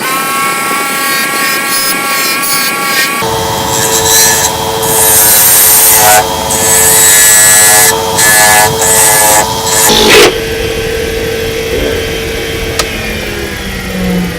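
A metal lathe parting off the body of a pizza cutter: a loud continuous tonal whine with strong harmonics and rough scraping, shifting pitch and intensity as the cut deepens, no talking.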